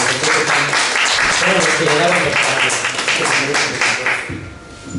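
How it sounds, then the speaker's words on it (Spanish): An audience at a philosophy of religion conference claps for two speakers, dense, loud applause filling the room and thinning out near the end, with faint voices mixed in. "les voy a pedir un aplauso para Julio y para mí"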